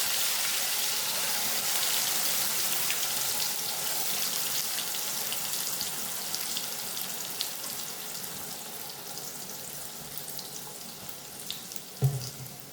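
Curry leaves and ground green onion chutney added to hot oil with popped mustard seeds: a steady, hissing sizzle runs throughout, easing slightly toward the end, with a brief clatter near the close and no talking.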